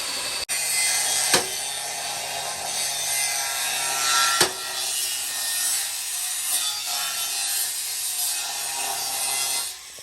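Metal structure being cut by hand while a rooftop solar power plant is fitted at a home. A continuous rasping, sawing scrape runs throughout, with two sharp knocks early on, close and fairly loud.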